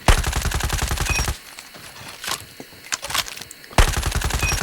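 An AR/LMG-style SMG hybrid fires in Call of Duty Mobile: loud, rapid automatic bursts at the start and end, with a quieter stretch of scattered distant shots between them.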